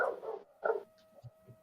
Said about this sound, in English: The dog's barking at the neighbours getting in and out of their car.